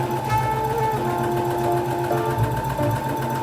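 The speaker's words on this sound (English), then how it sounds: "I'm simply gonna go and sew them in now" A sewing machine stitches darts into a vintage velvet holiday dress, running in one steady, loud, continuous mechanical whir without pause.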